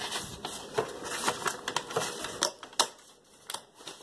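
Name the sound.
tearing a page out of a book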